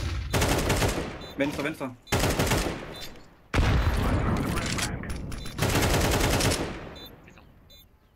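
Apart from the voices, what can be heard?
gunshots, five shots fired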